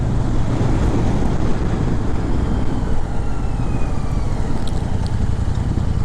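A car travels a long road stretch on a pilgrimage journey. A steady, loud low rumble with wind buffeting runs unbroken throughout, with no talking.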